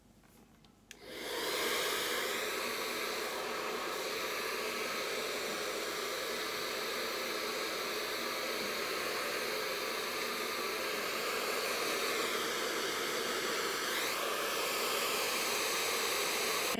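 A hair dryer blows heat onto the ends of hair being straightened from curly, switching on after about a second and then roaring steadily and close for the rest, with slight shifts in pitch as it moves.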